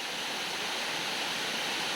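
A waterfall in the Sitamata wildlife sanctuary gives a dense, constant roar of falling water, loud and unbroken, with no voices over it.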